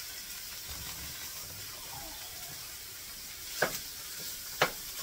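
Pre-fried hamburger is stirred into a pan with onions and garlic, giving a soft, steady sizzle with two brief scraping clinks of the utensil near the end.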